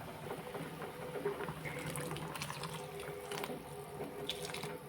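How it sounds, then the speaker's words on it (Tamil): Dissolved tamarind water poured into a simmering brinjal kuzhambu, a steady liquid splash and gush running continuously at moderate level throughout. "இப்போ நம்ம கொஞ்சம் புளி கரைச்சி ஊற்றிக்கலாம்"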